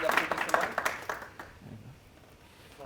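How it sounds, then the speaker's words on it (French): An audience at a conference on e-health in France applauds, a brief round of scattered clapping that fades out after about a second, with a voice briefly audible. "Vous pouvez l'applaudir, hein, surtout. Je pense que ça mérite des applaudissements."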